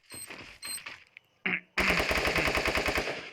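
Short bursts of automatic gunfire in a video game tournament match crackle, then a long sustained volley rattles loudly and continuously to the end.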